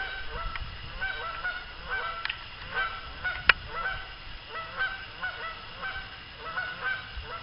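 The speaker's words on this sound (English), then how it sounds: "Couple honkers." Several geese honk repeatedly at a pond, the calls coming in scattered bursts from a moderate distance over outdoor background noise, with one sharp click partway through.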